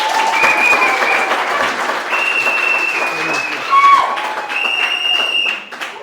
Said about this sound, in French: vous savez pourquoi les gens ont applaudi?